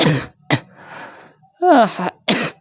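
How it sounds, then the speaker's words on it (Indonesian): A person coughs several times in short, harsh bursts, close by, with a throaty rasp between them. "Batuk guys."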